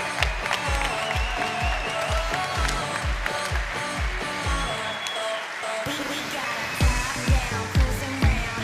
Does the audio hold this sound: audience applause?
yes